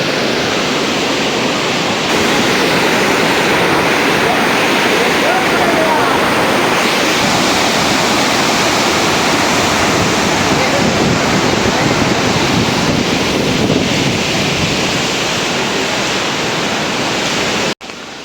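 Water rushing under high pressure at the Malavi dam, a loud continuous roar with wind buffeting the microphone throughout, ending abruptly.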